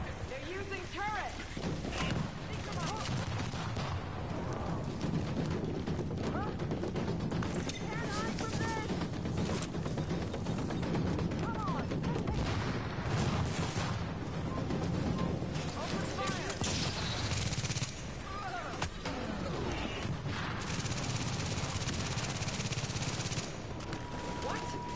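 Automated turret gunfire in the shooter video game The Division: dense, sustained volleys of rapid shots and sharp cracks, loud and busy throughout, mixed with other combat noise and people talking underneath.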